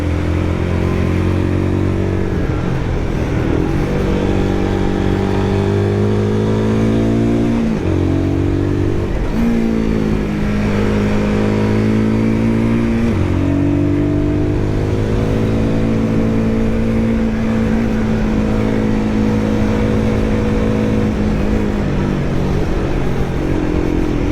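A Royal Enfield Guerrilla 450 engine revs on the throttle while riding, pitch rising and falling through several surges and gear changes, loud and close over constant road and wind noise, no speech.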